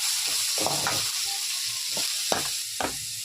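Two large onions frying in hot oil in a pan, a steady sizzle with several short stirring scrapes and bursts spread through the clip, close and fairly quiet, with no talking.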